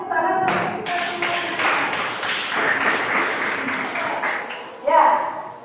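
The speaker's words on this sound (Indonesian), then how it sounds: "tepuk tangan untuk kita semua" Schoolchildren in a classroom clap together during a lesson, a busy patter of hands that rises and falls over several seconds, with voices and a few louder taps mixed in and a brief burst near the end.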